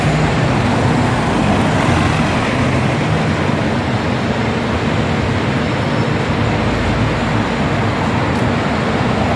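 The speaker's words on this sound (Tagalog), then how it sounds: "Ito yung bus, so city bus." Dense street traffic on Des Voeux Road, Hong Kong, with a city bus passing: a continuous loud rumble and roar of engines and road noise, steady throughout with no clear pauses.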